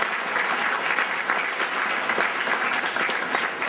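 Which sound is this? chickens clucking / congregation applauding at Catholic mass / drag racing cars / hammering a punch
congregation applauding at Catholic mass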